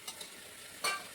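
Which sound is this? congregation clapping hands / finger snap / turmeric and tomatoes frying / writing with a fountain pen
turmeric and tomatoes frying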